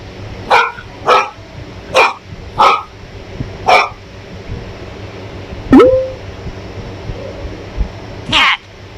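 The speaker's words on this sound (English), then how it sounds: "Dog." A dog gives a series of sharp, loud barks close by, five in fairly even rhythm, then a whining yelp and one more bark.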